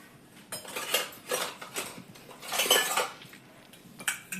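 A small steel bowl taken out and handled nearby, with a few soft metallic knocks and clinks of utensils in uneven bursts over a quiet background.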